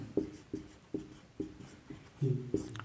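Chalk or marker strokes on a board during a chemistry lesson, about seven short scratchy taps and scrapes in a steady rhythm, close and fairly quiet with no talking.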